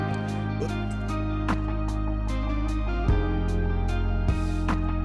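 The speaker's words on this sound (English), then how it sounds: "like listen to those drums, see how the drums are just really more chill." Chill lo-fi hip-hop track from a previously made song, built around relaxed, steady drum hits under warm sustained chords, playing continuously at an even level with no voices.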